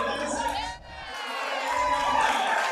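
A crowd at a USAPL Summer Showdown powerlifting meet cheering and shouting behind a lifter grinding through a heavy squat near 600 pounds, loud continuous whoops and yells throughout.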